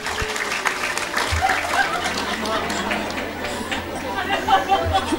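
Applause from a religious lecture audience for the organizing committee of Dukuh Tugu Banyumudal, scattered clapping mixed with crowd chatter and murmuring throughout, moderately loud and somewhat diffuse.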